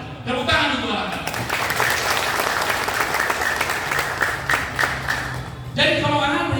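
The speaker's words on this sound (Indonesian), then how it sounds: "Tepuk tangan untuk orang Batak." An audience applauds at an installation ceremony for a Batak community organisation, a dense sustained wave of clapping filling a hall, with someone speaking over the start and end of it.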